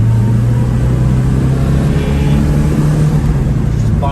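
Porsche 924S engine pulling uphill in second gear, a loud steady drone with a strong low hum and slight bogging under load, continuous throughout.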